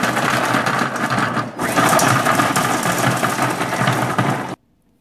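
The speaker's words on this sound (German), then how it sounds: "werde den jetzt mit der Turbo-Taste erstmal klein schreddern" Krups Prep & Cook food processor on turbo shredding Parmesan with its blade, a loud buzzing whir that drops out briefly, resumes and then stops abruptly near the end.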